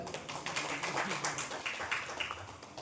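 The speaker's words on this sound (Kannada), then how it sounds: "ಚಾಂಪಿಯನ್ ಚಪ್ಪಾಳೆ." Applause for the champion at a village Independence Day and Krishna Janmashtami prize-giving: a brief burst of light, scattered hand claps from a small crowd, fairly faint and steady for a few seconds.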